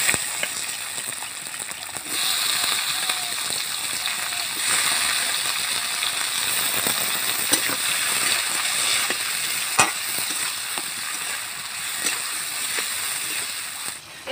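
Chopped tomatoes, cashews and ginger fry in a pan for a village-style matar paneer, giving a steady loud sizzle with stirring and splatter that runs the whole way through.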